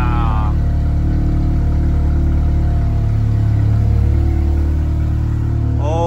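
An Audi S3 sedan's four-cylinder engine after a cold start, idling with a steady, loud, close low drone and slight rise in revs midway, with a voice briefly at the start and end.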